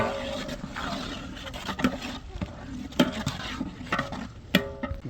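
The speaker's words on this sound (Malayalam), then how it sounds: "ഇതൊക്കെ കൂടിയിട്ട് നന്നായിട്ടൊന്ന് മിക്സാക്കി എടുക്കുന്നുണ്ട്" Spice powders for biriyani being stirred and mixed in a pot, with repeated scraping and clinking strokes of a spoon at an uneven rhythm over a soft background sizzle.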